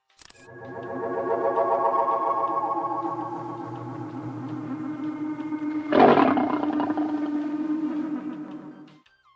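A tiger's roar rendered as a synthetic electronic effect for the 1956 film Forbidden Planet: a long, sustained, buzzing tonal growl with a harsh burst midway, loud and alone, swelling and fading over several seconds.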